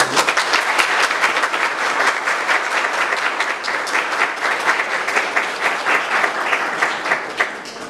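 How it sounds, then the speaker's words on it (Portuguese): A congregation at a quinceañera church ceremony claps in unison, loud and dense, sustained steadily for several seconds before it starts to thin slightly. "Vamos aplaudir a palavra do Senhor."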